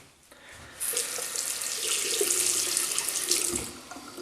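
Running tap water rinses a Merkur Slant 39c safety razor, a steady splashing stream that starts abruptly and pours loudly at close range for a few seconds before easing off, with no talking.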